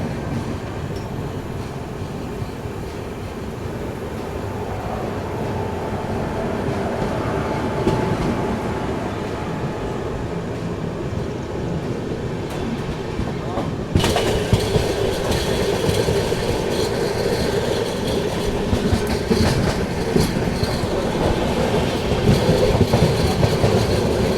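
Interior of a sleeper class coach on the Chennai Central to Ektanagar superfast express, running on the Mumbai–Chennai line near Raichur. A continuous loud rumble and rattle of wheels on rails with faint clickety-clack persists throughout, growing louder midway.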